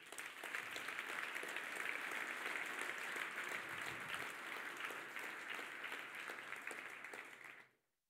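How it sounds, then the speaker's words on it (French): Steady, even applause from a conference audience in a hall, sustained for about seven seconds and then cut off abruptly, with no talk over it. "Et je pense qu'on peut les applaudir."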